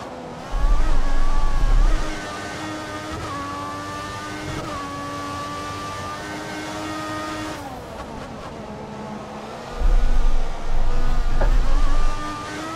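Simulated Formula 1 car from F1 2014 on a qualifying lap in Canada, engine screaming loud and close with rising gear-shift whines, a lift-off near the middle and heavy low rumbles at the start and end.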